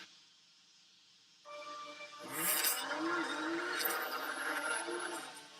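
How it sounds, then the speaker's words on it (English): A 2023 Nissan Z at its reveal, heard as a rising engine and exhaust roar that swells out of a quiet background and holds loud for several seconds, with hissy high-end texture and no speech. "It literally sounds like a GTR."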